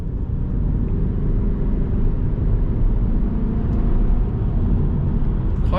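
A Saab 9-5 Aero on the move gives a steady, close road and engine rumble that holds at an even level throughout, with no talking.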